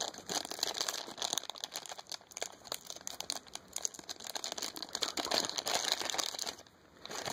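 A small plastic baggie crinkling and rustling close up as a Mew figure is taken out of it, the crackles steady and busy with brief pauses.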